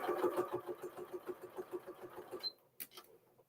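A sewing machine stitches quilt binding in a quick, even run of mechanical chugs for about two and a half seconds, then stops, followed by a short click and a faint rattle.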